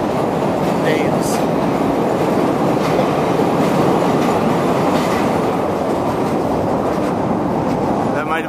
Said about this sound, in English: That might have been the longest train I've ever seen in my life.